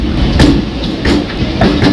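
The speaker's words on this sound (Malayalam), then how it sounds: "പേരലായിട്ട് ഒരു മെമു ലോക്കൽ ട്രെയിൻ പോകുന്നതാണ്" A MEMU local train rolls past very close alongside the Ernakulam–Kannur Intercity Express, its wheels clattering over the rail joints in a loud, rhythmic clickety-clack.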